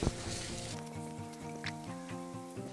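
Ginger garlic paste with softened onions sizzles quietly and steadily in a pan, with soft background music tones running beneath the frying.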